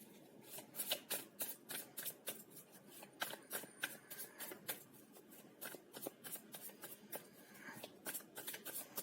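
Tarot cards riffled and drawn by hand, a quick series of crisp, close flicking and slapping bursts repeating in an uneven rhythm, quiet and with no talking.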